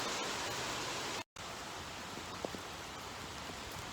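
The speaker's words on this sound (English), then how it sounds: "It's raining. It's so nice out here. My phone's getting completely wet" Steady rain hissing evenly and continuously, a dense broadband wash with a brief dropout partway through and a few faint taps.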